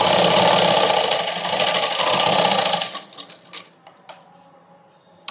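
A sewing machine stitches the lining of a padded blouse in a fast, loud, continuous whir for about three seconds, then stops, followed by a few soft clicks and fabric handling.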